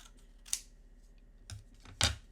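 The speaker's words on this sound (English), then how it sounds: "So I'm just going to trim this piece of cardstock down." A few quiet, sharp snips and clicks of cardstock being trimmed, spaced irregularly over a faint background, close-up with no talking.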